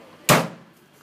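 A Triumph car's pressed-metal bonnet slams shut in one sharp, loud bang that decays quickly into quiet.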